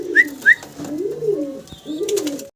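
Domestic pigeons coo nearby in a series of soft, rolling, swelling calls, with two brief higher chirps near the start and no talking.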